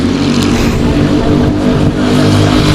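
LO206 racing kart engines buzzing hard during a sportsman kart race, a dense, loud, steady drone of several small engines close by, running without a break for the whole moment.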